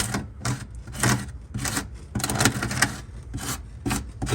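Lightweight spackle filler is worked into holes on an On30 model railroad layout, with rasping, scraping strokes repeating roughly every half second, close and steady, no voices.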